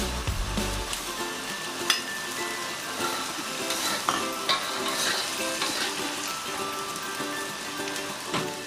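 Sardines returned to a hot pan with pancit bihon, frying with a busy crackling sizzle and occasional scraping stirs and clinks, close and continuous with no speech.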